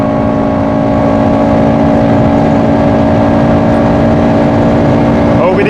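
Loud, steady engine and wind roar inside a Honda Civic Type R FN2 running flat out at top speed on the autobahn, a constant droning hum with road noise throughout.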